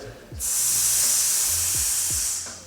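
A long, steady hiss of breath pushed out through pursed lips, like air leaking from a tire, lasting about two seconds before fading.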